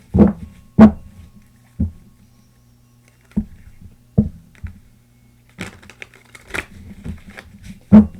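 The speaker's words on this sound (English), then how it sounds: "this will be the final shuffle" Tarot cards being shuffled in short, sharp riffling bursts spaced unevenly, close by, with quiet pauses between and no talking.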